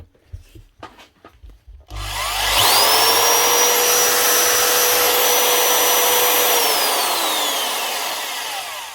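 Hitachi DV20V2 impact drill starts after a few handling clicks, spinning up into a loud, steady whining motor roar that holds for several seconds and begins to fade slightly at the end, close up with no talk.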